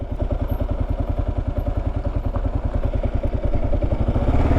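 A Kawasaki KLR 650 dual-sport motorcycle rides over large gravel rocks, its single-cylinder engine chugging in a steady, loud, close pulsing beat that swells slightly toward the end.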